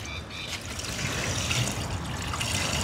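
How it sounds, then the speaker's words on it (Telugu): Dirty water from steam-cleaning sofas is poured down an outdoor drain, giving a steady rushing splash that holds at an even level for the whole stretch. "ఈ వేస్ట్ వాటర్ అన్ని ఇంకా డంప్ చేసుకోవడం"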